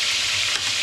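Tuna sizzling in hot cooking oil in a home kitchen, a dense, steady crackle of frying that stays close and fairly quiet throughout the brief moment.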